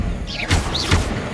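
The Incendio fire spell cast in Hogwarts Legacy: two quick, forceful bursts of crashing, fiery impact, each with a bright swooshing flare, close and loud over a game background.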